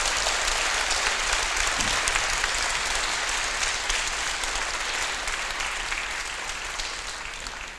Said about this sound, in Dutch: Met deze woorden denk ik een warm applaus voor onze minister Carola Schouten.